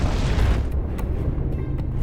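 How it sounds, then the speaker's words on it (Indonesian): A colosseum exploding in the video game Bayonetta: a heavy, rumbling blast that fills the low end, followed by sharp crackling bursts and debris as the roar slowly thins out. "Kolosiumnya meledak."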